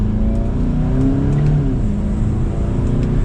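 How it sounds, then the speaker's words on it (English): A 2021 Volkswagen Golf GTI engine drones steadily under hard acceleration in second gear, sport mode, a close, continuous rising growl with no pause or talking. "we got up to the speed limit just like that"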